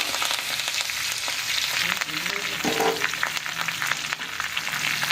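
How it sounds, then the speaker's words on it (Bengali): Curry leaves fry in hot oil for a crisp raw-papaya chanachur snack mix, giving a dense, steady sizzle with a brief burst of crackling partway through. No one speaks. "কারি পাত্তাটাকেও খুব ভালো করে ভাজা করে নেব।"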